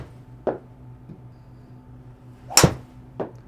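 Golf driver fitted with a stiffer shaft swinging and striking a ball during a club fitting: one sharp, close crack of impact between two softer ticks, over a low steady indoor hum.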